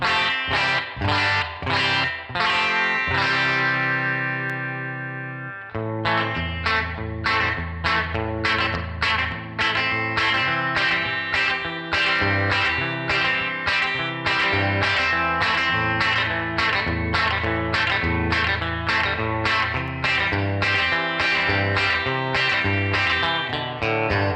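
An electric guitar plays through a Headrush Spring Guru spring reverb pedal: a sustained chord rings and decays, then a steady run of picked notes follows, each trailing a splashy reverb wash, loud and close with no voices.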